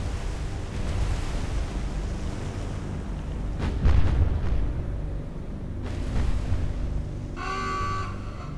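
Naval cannon fire from destroyers engaging a surfaced Japanese submarine in a Pacific war game, deep booming blasts rolling over a constant wash of sea and wind, with a couple of heavier thuds midway.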